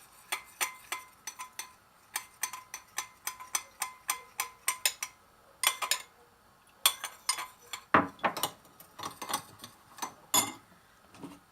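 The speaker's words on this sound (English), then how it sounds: "And you just want to mix it all up." Egg yolk being mixed into celeriac dish ingredients in a bowl, with a quick run of close, sharp utensil clinks and taps on the dish, steady at first and then more irregular, with a few louder knocks near the end.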